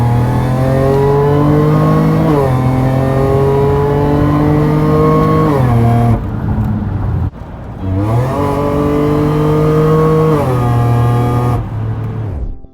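A supercharged 2015 Toyota Sienna minivan engine revs on a dyno through two long pulls, its loud droning pitch climbing steadily before dropping off sharply after each run.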